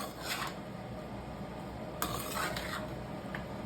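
Cooked rice being mixed into a schezwan mushroom mixture in a pan, soft stirring and scraping with a few sharper utensil clinks against quiet kitchen background.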